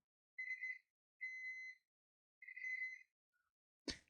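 Continuity buzzer on a digital multimeter (Etech DT9205A or Jakemy JM9205A) sounding as the probe leads touch: three short steady beeps, each about half a second, with pauses between, then a faint blip and a sharp click at the end.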